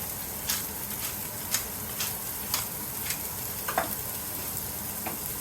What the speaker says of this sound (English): My onions are sauteing.